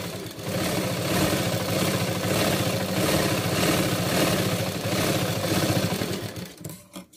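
A sewing machine runs steadily while stitching a blouse, its motor hum continuous and fairly loud for several seconds before slowing and stopping near the end.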